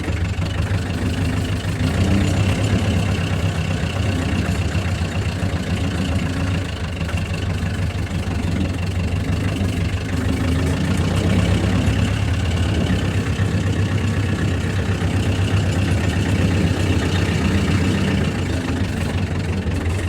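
Farm machine engine running steadily in second gear, heard from inside the cab: a loud, constant low drone and rumble with no break for twenty seconds and no talking.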